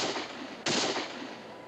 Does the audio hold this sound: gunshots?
yes